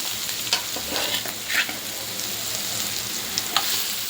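Fish coated in chili spice paste frying in hot oil, a steady close crackling sizzle with a few sharper spattering pops, no voices.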